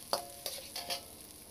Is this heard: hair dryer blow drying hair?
no